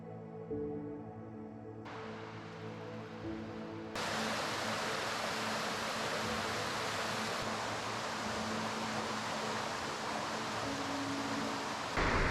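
A river rushes steadily beside the riverside in Richmond, Yorkshire Dales, on a summer evening near a waterfall, a broad continuous roar of flowing water that swells louder partway through and holds steady.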